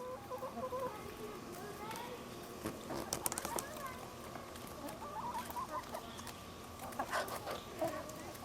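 Backyard hens, a Barred Rock, an Australorp and a Rhode Island Red, cluck softly and intermittently while pecking seeds from cut squash, with light pattering and scratching between calls.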